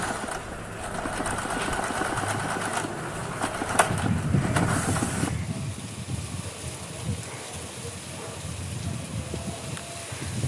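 A standard domestic sewing machine stitches a leaf embroidery design in normal straight stitch, a loud, continuous motor whir and needle chatter that shifts slightly in tone midway and runs throughout without speech.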